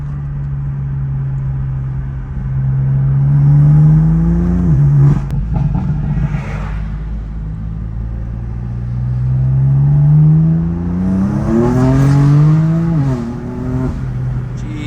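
BMW M4 CS engine revving hard under acceleration, harmonic pitch climbing steadily, easing off briefly around a shift, then rising again in a second loud pull, heard close from inside the car with no talking.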